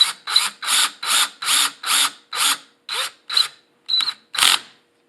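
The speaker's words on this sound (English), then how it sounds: "go ahead and secure it with the screw" Screw driven with a power drill to fix a pocket door in a doorway conversion, a loud close series of about ten short ratcheting bursts with brief pauses between them, no speech.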